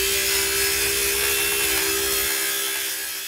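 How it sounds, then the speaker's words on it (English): A small circular skill saw cuts a 30-degree angle through wood panels for a church stage build, making a loud, close, high whine with a rough, buzzing bite that drops off as the cut finishes. "we're gonna draw a 30 degree angle where we need our angles and cut that with our little skill saw"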